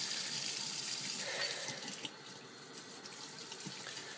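Warm water runs steadily from a tap over makeup brushes being wetted in a sink, a constant splashing hiss with small variations as the brushes move through the stream.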